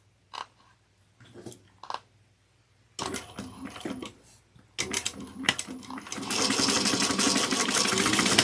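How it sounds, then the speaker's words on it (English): A few soft taps and fabric handling sounds open, then a sewing machine starts up and runs in short stops and starts while stitching the corners of a handmade bag, ending in a steady, louder continuous whir. "we're going to first sew the corners down using a 3/8 of an inch seam allowance"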